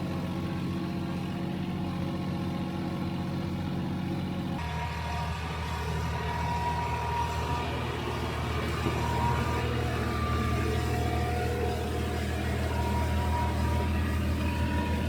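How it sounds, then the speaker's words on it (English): Mahindra 1626 compact tractor engine running at an off-grid cabin, a steady low diesel rumble that holds throughout, fairly quiet and even, with a slight shift in tone partway through and no talking. "This is the Mahindra 1626. It's been a great little tractor."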